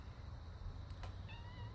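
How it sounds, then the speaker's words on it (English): Kittens meowing indoors, a couple of short thin mews over a low steady background hum, fairly faint and brief. "We've got kittens trying to attack the phone."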